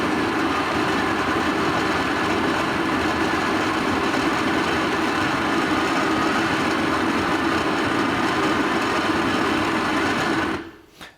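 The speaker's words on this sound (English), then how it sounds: "I go to more or less 3 on my grinder, and now I'm activating the button" An espresso coffee grinder set to about 3 grinds into a filter holder with a loud, steady, high-pitched motor whir that runs unbroken for about ten seconds, then stops abruptly.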